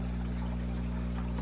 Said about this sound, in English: Just get a nice slow drip.